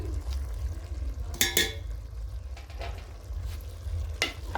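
Cleaned smoked fish cooking in a pan with green vegetables, a steady low sizzle broken by a few sharp scrapes and stirring knocks nearby.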